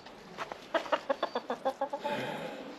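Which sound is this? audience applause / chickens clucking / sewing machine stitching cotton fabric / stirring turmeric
chickens clucking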